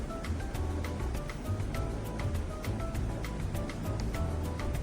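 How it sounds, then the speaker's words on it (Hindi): About four to five glasses of water are poured into a pot of masoor lentils in a home kitchen. A steady, close, rushing pour runs without break for the whole stretch, with no talking. "अब मैं इसमें डाल रही हूँ जी तकरीबन 4 से 5 ग्लास पानी"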